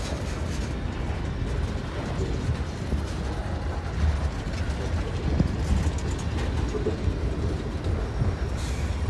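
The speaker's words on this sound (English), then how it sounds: "This is the first time I've ever seen a rock train with 2 6-axle locomotives on it." A loaded freight rock train with two 6-axle locomotives rumbles steadily past nearby, with dense rolling wheel clatter and rhythmic clanking of heavy rock cars throughout.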